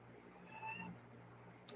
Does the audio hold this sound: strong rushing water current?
no